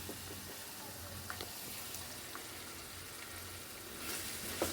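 Oil heats and fries in a pan while chicken dum biryani is being cooked. It gives a faint, steady low sizzle with a few small pops and brief swells, heard from a distance with no talking.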